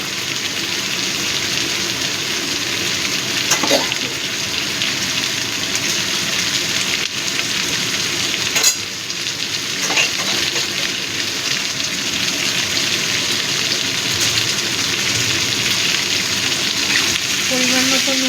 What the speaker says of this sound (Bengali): এবার পেঁয়াজটাকেও ভালো করে একটু ভেজে নেব।